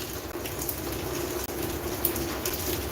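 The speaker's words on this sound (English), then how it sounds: "even if it is cold and raining" Steady rain falls in a garden at night, a constant close patter of drops on surfaces with no voices.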